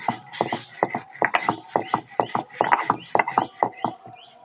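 Roasted cumin and bay leaf ground into a spice paste, a close run of rhythmic scraping and knocking strokes, about twenty short, sharp grinds with brief gaps between them.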